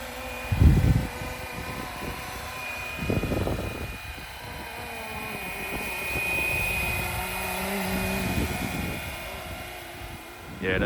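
A Flywing Bell 206 V4 radio-controlled helicopter flies nearby with a steady whirring rotor and motor drone, while a few louder bumps and handling noises break in early on.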